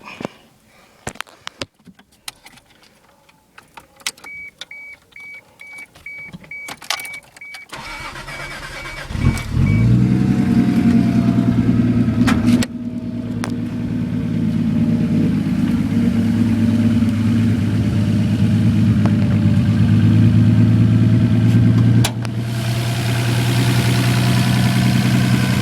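A 1987 Toyota Supra mk3 with a 7M-GT engine and aftermarket intake cranks and fires up after quiet handling noises, then settles into a loud, steady idle with a brief rev midway, close and continuous.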